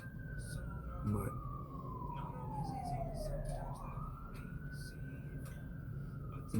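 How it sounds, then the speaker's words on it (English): A wailing emergency vehicle siren sweeps down and back up in pitch, steady and fairly loud over a low rumbling background. "when I hear that siren"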